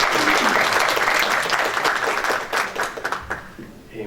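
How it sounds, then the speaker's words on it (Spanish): A lecture audience welcomes the speaker with strong, sustained applause, dense clapping that holds steady and then tapers off into scattered claps in the final second. "a quien le solicito a todos ustedes un fuerte voto de aplauso"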